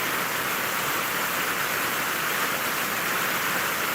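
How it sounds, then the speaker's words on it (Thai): Rain falls outdoors in Thailand during a mushroom-gathering outing, a steady, even hiss of drops with no voices over it. "ฝนก็ตก"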